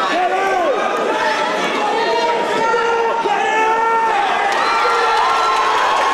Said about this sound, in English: You can really hear the crowd hyping up for this.